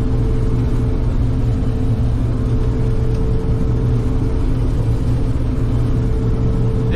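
A combine harvester engine drones steadily near 900 rpm while harvesting barley, a loud, constant low rumble with a faint hum and no voices.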